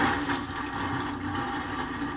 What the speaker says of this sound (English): We gotta do a flush test